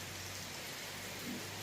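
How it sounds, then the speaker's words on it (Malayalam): Heavy monsoon rain falls in a steady, dense hiss with no distinct drops, even and unbroken throughout, no voices. "നല്ല മഴയാണ് കേട്ടോ"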